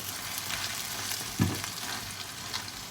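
An eggplant omelette sizzles steadily in a frying pan, a soft continuous crackle of hot oil with a brief louder clatter midway, no voices.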